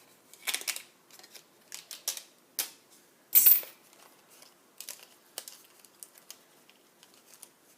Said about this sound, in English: Popping all the pieces out.